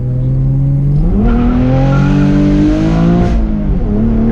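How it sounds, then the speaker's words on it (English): A 2020 Camaro RS V6 1LE engine revs hard and rises in pitch as the tires spin after a clutch kick, loud and close, the tone climbing in steps as it accelerates. "That was a ton of wheel spin there."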